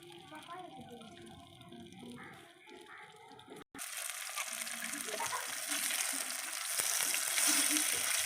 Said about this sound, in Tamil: மீன் வறுக்கிறதுக்கு தோசைக்கல் எடுத்து வச்சுக்கலாம் எண்ணெய் ஊற்றிக்கலாம்